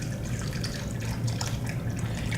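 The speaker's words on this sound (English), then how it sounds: "We'll pour it directly onto the chicken." Whisked marinade pours directly onto chicken, a continuous wet trickling and splashing that stays close and fairly even throughout, with small drips and no voices.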